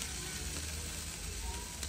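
Chicken wings sizzling on a barbecue, a dense, continuous close-up crackle and hiss that stays at an even loudness throughout.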